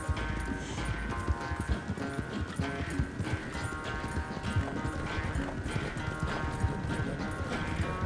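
A horse gallops in the Red Dead Redemption video game, its hooves beating a fast, continuous clip-clop rhythm near and loud for several seconds, with a whinny near the start and a steady low background underneath.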